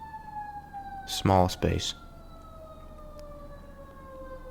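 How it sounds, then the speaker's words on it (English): A passing emergency-vehicle siren on a busy street holds a steady wail that slowly falls in pitch as it moves away, with a brief spoken phrase near the start. "you'll have to forgive the siren that passes"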